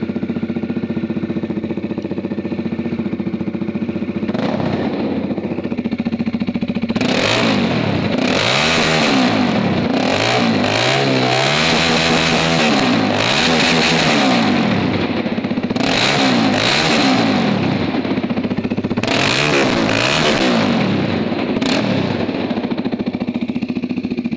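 Bajaj Dominar 400 motorcycle with an aftermarket exhaust, idling loudly up close, then revved hard in repeated bursts with throttle blips and sharp rises and falls in pitch.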